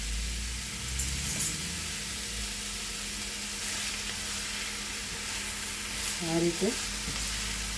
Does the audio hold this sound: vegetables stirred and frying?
yes